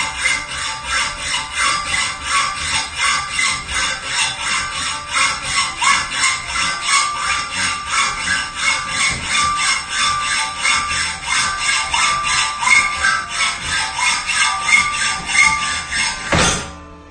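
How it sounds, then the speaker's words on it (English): A saw cuts through thick metal coping on a bandsaw fitted with a hacksaw blade, a fast, steady rasping stroke rhythm running close and loud without a break, ending abruptly near the finish. "Cut the metal, everybody."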